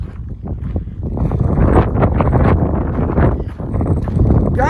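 Strong wind gusting outdoors at Red Rock Canyon overlook near Las Vegas, a loud, continuous roar and buffeting against the microphone with no talk.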